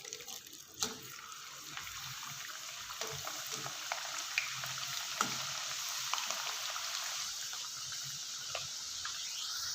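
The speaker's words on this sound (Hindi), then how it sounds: "ऑयल अच्छे से गर्म हो चुका है। अब मैं इसमें फ्राइज़ शामिल करूँगी।" Potato french fries frying in hot oil in a pan, a steady close bubbling sizzle throughout with a few sharp pops and crackles, no talking.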